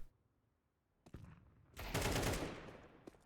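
AK rifle fire in a Counter-Strike match: a few sharp shots, then a loud dense burst that rings out and fades, with a faint final crack.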